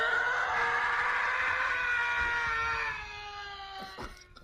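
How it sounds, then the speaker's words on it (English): A blood-curdling human scream rings out loud and sustained for about three seconds, echoing through a sewer sub-basement before cutting off and trailing away. "blood-curdling scream is the best way to describe it."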